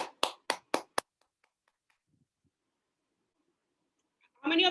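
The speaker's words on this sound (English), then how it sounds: "All of you, clap for yourself." Five sharp, evenly spaced hand claps ring out close at a group seminar, followed by near silence before a voice begins speaking.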